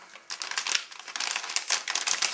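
A plastic MRE ration bag from a New Zealand 24-hour civilian ration pack crinkles and rustles as it is opened, a close, busy crackle of bursts.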